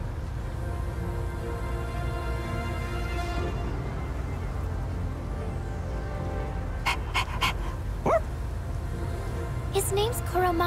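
A dog panting in the video game Persona 3 Reload, with steady rapid breathing that runs through most of the stretch. Game music plays underneath and a voice speaks briefly.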